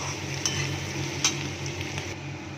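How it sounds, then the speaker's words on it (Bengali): Onion and whole garam masala frying in a wok, a continuous close sizzle with a few sharp clicks of a stirring utensil. "আর কড়াইতে পেঁয়াজ, গোটা গরম মশলা দিয়ে দিলাম। এটা ভালো করে ভাজা হবে।"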